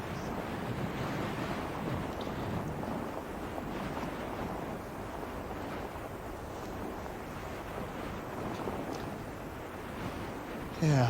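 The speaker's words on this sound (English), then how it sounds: "the wind blowing the trousers" Steady wind gusting across an open links golf course at Royal Troon during a women's major, a continuous broad rushing roar close on the microphone with no talk.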